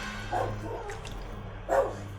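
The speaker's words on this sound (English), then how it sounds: "What you barking at?" A dog gives two short barks about a second apart, close by, with a low steady hum in the background.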